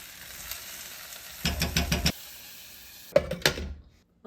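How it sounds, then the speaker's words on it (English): Chunks of celery root fry in a turmeric onion paste, a soft constant sizzle broken by two louder bursts of scraping and stirring before the sound cuts off. "Mix so that the chunks are coated in the turmeric onion paste."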